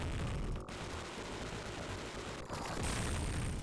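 A spread gun fires in Robocop vs Terminator on the Sega Genesis, a dense, continuous stream of crunchy shots with a couple of brief breaks, loud and unbroken.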